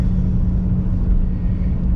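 Inside a car on a slippery winter road, a steady loud low rumble of engine and tyres carries on without a break, close and even, with no voices.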